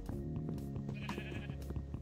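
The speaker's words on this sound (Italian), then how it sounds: "pecora, non mi passare davanti," A sheep in the video game Epic Siege bleats in a wavering, drawn-out call set against steady game ambience and scattered clicks.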